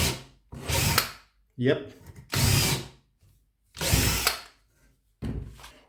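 A Parkside power drill working with a drilling jig, running in four separate loud bursts of whirring motor noise with short quiet gaps between them and a brief spoken word in one pause.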